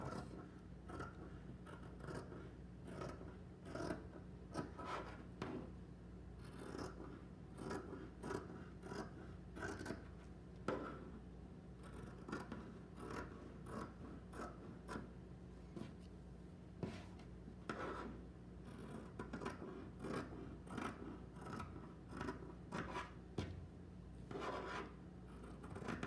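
Scissors cut a paper mask pattern in quiet, steady snips and rasping slides along the line, soft and close, with no voices.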